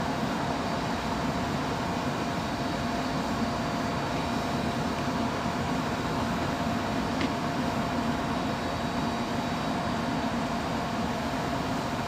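A steady, continuous roar of aircraft at London Heathrow Airport's runway 27L, broad and distant, with a faint brief tonal whine partway through and no voices.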